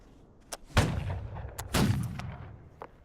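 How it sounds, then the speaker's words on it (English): Musket volleys in a video game battle, two heavy booming blasts about a second apart with scattered lighter shots around them, each fading into a rumbling tail. "Halt here and fire at will."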